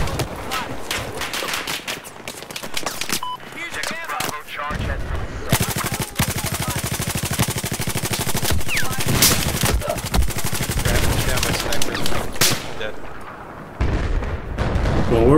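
Rapid gunfire and explosions in the video game Battlefield 4, Siege of Shanghai map in Rush mode, dense automatic bursts with sharp cracks throughout, a player talking over parts of it.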